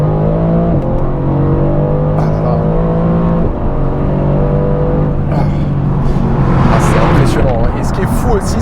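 Mercedes-AMG GT S coupé with its 522 hp engine accelerating hard from inside the cabin, a loud steady engine drone climbing through the gears with brief dips at shifts, while someone talks over it.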